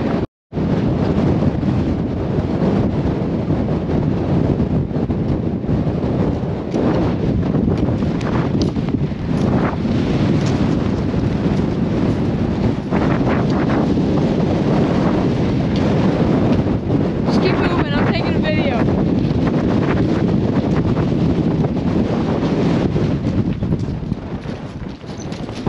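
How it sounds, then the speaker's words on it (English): Strong, constant wind on the summit of Wheeler Peak roars and buffets the microphone almost nonstop, with brief voices now and then breaking through the gusts. "As you can see, we got some wind happening."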